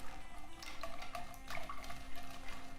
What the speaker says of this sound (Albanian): ja shtojmë 100 ml me ujë të vakët